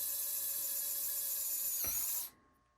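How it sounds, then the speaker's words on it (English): A cordless drill re-drills a screw hole in a wood blank, a steady high whine running close and loud for over two seconds with a brief thump near the end before cutting off sharply. "re-drill your hole"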